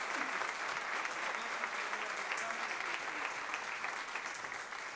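An audience applauding at an awards ceremony, a dense, steady wash of clapping that holds for several seconds and fades slightly at the end.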